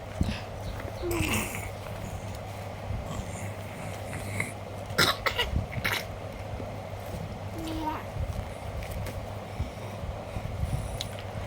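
A child with a cold coughs a few times in short bursts over steady indoor background noise, with a voice faintly present.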